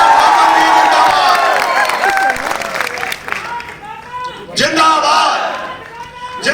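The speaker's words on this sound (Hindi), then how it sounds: "युवा तो जब भी ताली बजाते हैं शोर मचा के ताली बजाते हैं" A loud young crowd at a youth organisation meeting claps and cheers, with shouting and voices over the clapping, dense at first, then breaking into chanting calls.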